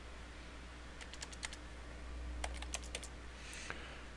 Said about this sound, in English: I'm just typing in part of it.